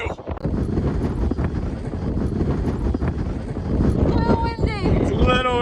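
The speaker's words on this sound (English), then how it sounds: "It's a little windy." Strong wind buffets the microphone at a mountain viewpoint, a constant loud roar with gusts and a voice talking over it.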